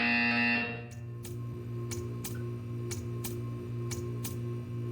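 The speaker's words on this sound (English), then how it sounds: "You will hear a buzzer." A Portal 2 test-chamber buzzer in the art-staring test: a loud opening tone, then a string of sharp evenly spaced clicks or buzzes over a low electronic hum.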